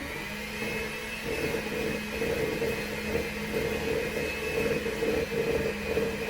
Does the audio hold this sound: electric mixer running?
yes